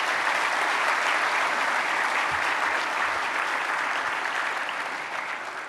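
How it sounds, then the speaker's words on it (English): A large audience applauds the National Ballet of Cote d'Ivoire dance group at a formal opening ceremony, with dense, sustained clapping that holds steady and eases slightly at the end. "may we please give a round of applause to the group that just performed this wonderful"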